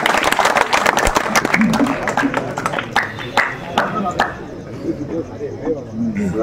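Audience applause at an All India mushaira and book launch, dense clapping for about four seconds that thins out toward the end, with crowd murmur underneath.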